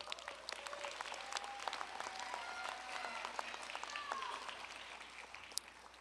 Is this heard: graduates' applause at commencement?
yes